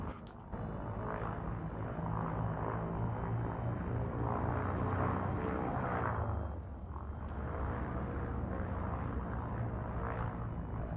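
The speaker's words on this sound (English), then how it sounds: "Landing gear retracted." Spaceship machinery in Elite Dangerous as landing gear retracts: a deep, loud mechanical rumble and whir that swells, dips briefly, then resumes, with no talking.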